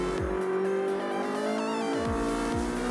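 Ferrari Challenge race car accelerating on the Paul Ricard circuit, a high revving engine whine climbing with sharp downward sweeps at each gear change, loud and continuous with no talk.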